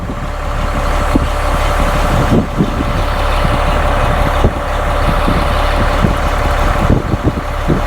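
A semi truck idles with a loud, steady diesel rumble up close, with periodic hissing and clunking as its air suspension bags fill.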